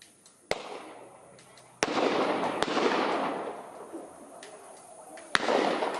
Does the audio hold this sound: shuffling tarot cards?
no